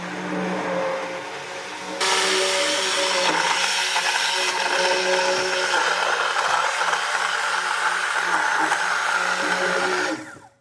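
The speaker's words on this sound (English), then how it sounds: "And you are going to need a hand blender." A hand blender whirring steadily as it mixes homemade black soap shower gel, a loud continuous motor hum that starts after a brief softer stretch and cuts off abruptly at the end.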